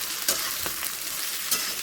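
Capsicum, carrot, beans and green chilli sizzle in a pan of fried onions, a steady hiss with a couple of brief stirring scrapes, close and fairly loud, no voices.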